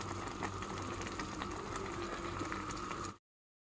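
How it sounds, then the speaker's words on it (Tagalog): A pot of native chicken soup bubbling at a steady rolling boil, dense continuous gurgling up close, with no voices, ending abruptly. "Kumukulo-kulo pa."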